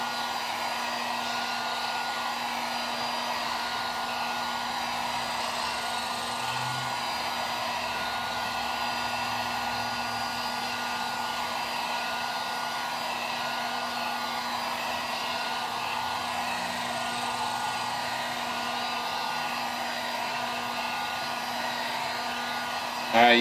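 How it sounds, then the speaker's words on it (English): A hair dryer blows steadily on a car dent to heat it, a close, continuous whirring hum with a constant tone lasting the full stretch, ending with a short bump. "I'm gonna heat this up for like a minute or so."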